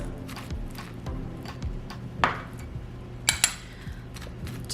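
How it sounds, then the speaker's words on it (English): Halved spaghetti squash being scraped to remove its seeds, a soft scraping texture broken by a few sharp clinks and scrapes of a utensil against the squash, close and fairly quiet. "Just take the seeds out. The seeds look like little pumpkin seeds. Just scrape them out."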